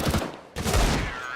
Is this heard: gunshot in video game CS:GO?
yes